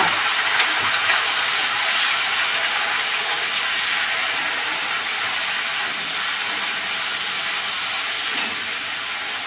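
Food sautéing in a clay pot on a village kitchen fire, a continuous bright hissing sizzle that stays loud and close for the whole stretch, with no talking.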